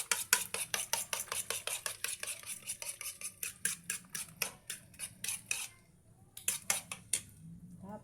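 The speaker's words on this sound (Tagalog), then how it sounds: "Haluin lang natin ng maigi." Beaten egg mixture for an eggplant omelette stirred briskly in a bowl, a rapid series of close metallic clinks and scrapes from a utensil, about two per second, pausing briefly before a few final strokes.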